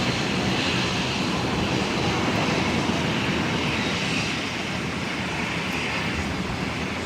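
A Qantas aircraft takes off from runway 01 right at Brisbane Airport, a steady, loud broadband engine roar that holds without pause throughout.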